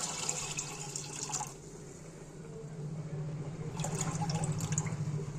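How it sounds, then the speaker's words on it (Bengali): Water for cooking rice running into a pot in two bursts, a steady splashing flow at the start and again near the end, with a low hum behind it and a quieter gap between. "ভাতটা চাপিয়ে দেব, পরিমাণ মতো জল দিয়ে দিলাম।"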